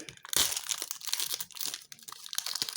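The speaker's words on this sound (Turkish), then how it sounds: "Paketleri açmaya başlayalım." LOL doll packages being torn open, their plastic and foil wrapping crinkling and crunching loudly up close in a continuous rustle with sharp crackles, no talking.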